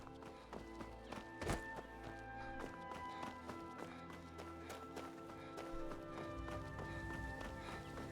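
Horse hooves clopping in a steady, rhythmic gallop in Skyrim, with sharp repeated thuds over a quiet background and faint speech.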